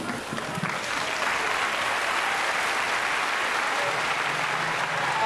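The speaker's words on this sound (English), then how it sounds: "The easiest applause I've ever heard." Theatre audience applauding during a pantomime performance of Aladdin, a broad, even wash of clapping that holds steady from start to finish, with a faint voice underneath near the end.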